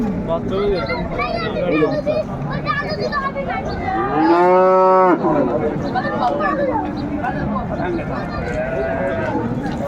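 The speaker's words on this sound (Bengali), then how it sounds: "গাভী বাচ্চাগুলো দেখছিলাম এখানে" Cows and calves low at a busy rural cattle market, one loud drawn-out moo standing out near the middle amid other bellows, with people talking throughout.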